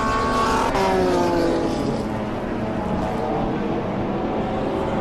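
A BMW race car in the BMW Car Club Racing Series at Zwartkops circuit, a loud steady engine roar that holds at high revs and then slowly fades as it drives away.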